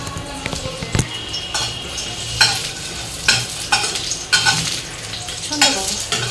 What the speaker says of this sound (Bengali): চিকেনটা করে নিই, এই যে রাঙা আলু দিয়ে করছি।